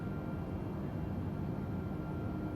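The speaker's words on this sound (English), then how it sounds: "Sounds like this airplane is really quiet" A steady, even hum of an Airbus A320 cockpit in Microsoft Flight Simulator 2020 fills the clip, a constant broadband engine and air noise with no talk.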